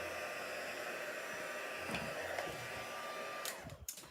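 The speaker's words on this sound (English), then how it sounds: "That's what helps, to have a nice heat tool." A steady, loud broadband blowing hiss from a hot-air heat tool runs throughout, then cuts off with a few clicks near the end.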